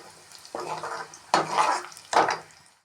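Curry leaves sizzle in hot oil in three sharp, close bursts, each crackling loudly then fading quickly, with no voices.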